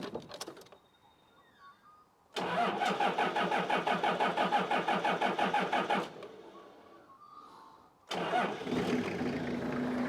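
A 1954 Ford F600 truck engine on a 24-volt system is jump-started: a loud cranking burst with rapid rhythmic pulses runs about four seconds, falls back to a lower idle-like rumble, then surges loud again near the end.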